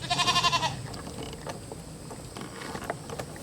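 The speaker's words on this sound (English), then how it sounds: "Mama Goat wants to say hi" A mother goat gives a loud, close bleat of several quick wavering pulses, then falls quiet while faint creaks and small rustles carry on in the pen.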